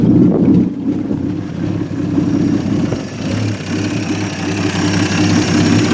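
A 1950 Studebaker Champion, freshly revived after forty years stored in a shed, idles with a steady low rumbling drone, loud and close, with no one talking over it.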